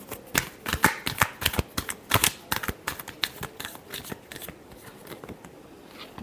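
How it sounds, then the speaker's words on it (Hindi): Tarot cards being shuffled up close in a rapid run of crisp riffling flicks that gradually grows softer and sparser. "Last shuffle."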